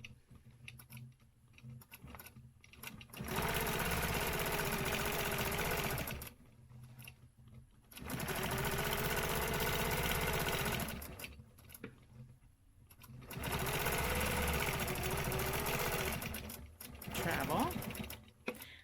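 Sewing machine stitching along the line of a stencil design, running in three long loud bursts separated by short pauses, with brief quieter moments between runs and faint talk in the gaps.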